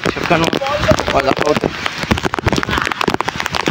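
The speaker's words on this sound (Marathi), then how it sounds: "जाम बेकार पाऊस आलाय." Heavy rain patters hard and steady on surfaces during a cricket game in a forest, loud and close, with people talking over the downpour.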